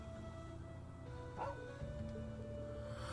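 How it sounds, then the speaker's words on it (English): A dog barks in the Trails of Cold Steel II video game at the Schwarzer family stable in Ymir. Two or three short, fairly faint yips and barks sit over a steady background music bed. "Dog!"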